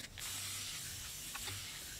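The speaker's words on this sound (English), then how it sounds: "This is just a spray bottle that you can find in the gardening section." A garden-section spray bottle mists water onto soil for growing pak choi and tat soi microgreens, with close, sharp hissing squirts: a strong burst at the start and a couple of fainter sprays later, no voices.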